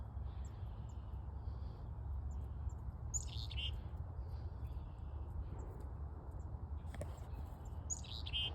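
Small wild birds, including a nuthatch, chirp in brief high bursts over a steady low rumble while being hand fed outdoors; the calls come in a few scattered clusters, moderately near.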